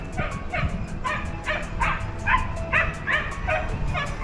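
Hunting dogs on a driven boar and roe deer hunt give a steady run of sharp barks and high yips, about two per second, moderately close over a rustling woodland background.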